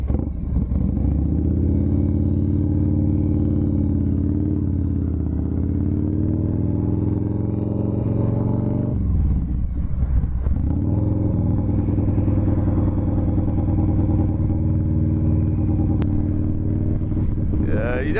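A 95th Anniversary Edition Harley-Davidson Softail Fat Boy motorcycle rumbles steadily at close range, its deep engine note dipping briefly mid-clip before settling back to a continuous loud idle.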